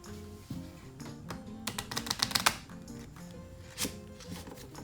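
Playing cards are shuffled nearby, a quick run of crisp riffling taps building to a flurry, then a single soft snap, over faint background music.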